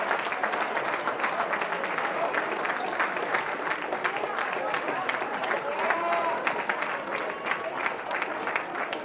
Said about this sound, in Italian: riceve l'applauso della tribuna per questa sua coraggiosa condotta